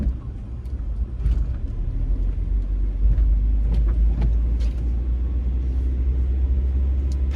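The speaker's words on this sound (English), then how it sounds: "I'm driving up York." A car drives along York Street at American Street through a city neighborhood, its steady low engine and road rumble continuous and close from inside the vehicle, with faint traffic sounds around.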